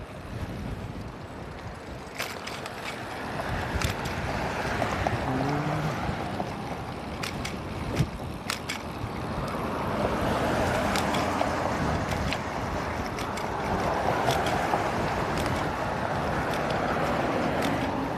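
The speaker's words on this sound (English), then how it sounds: "wind is loud." Strong wind buffeting a microphone outdoors beside a road while hitchhiking, a continuous loud roaring rush with gusts, occasional sharp crackles from the mic and no clear voices.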